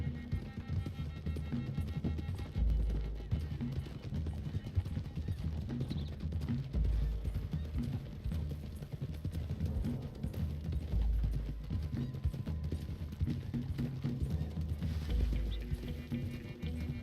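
Horses gallop in Red Dead Redemption 2, their hooves beating a fast, steady clip-clop rhythm close by, with occasional louder thumps and a faint whinny, and no talking over it.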